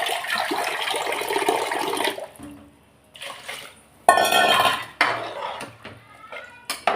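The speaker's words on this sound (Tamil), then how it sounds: "முதல்ல குக்கரை மூடி வச்சுட்டு" A pressure cooker holding one-pot rice is closed in a home kitchen, with metallic clanks, scrapes and clatter of the lid and pot in several bursts, separated by short quiet gaps.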